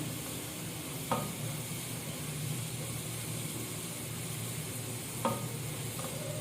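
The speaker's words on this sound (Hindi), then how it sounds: "ये देखिए, प्याज ब्राउन होना शुरू हो गई है।" Steady sizzle of onions frying and browning in a pan, with a couple of brief clinks of a utensil stirring.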